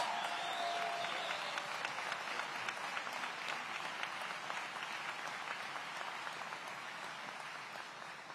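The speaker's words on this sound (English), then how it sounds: "Give a round of applause for APD." Steady applause from a crowd at a public safety event in Aurora, sustained throughout and slowly fading slightly toward the end, with scattered sharp claps standing out.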